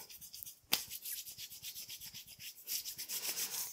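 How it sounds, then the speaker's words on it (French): Palms rubbing briskly together to warm them during a calm qi gong routine, a soft, close, continuous swishing friction in quick repeated strokes with one sharper brush early on. "je vais frotter mes mains jusqu'à ce qu'elles soient bien chaudes"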